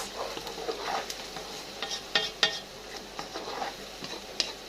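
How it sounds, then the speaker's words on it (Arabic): A spoon stirs tomato sauce in a large aluminium pot, giving soft scraping strokes and a few sharper clinks against the metal over a faint simmering hiss, close and quiet, with no talking. "هنقلبها بقى كده كويس."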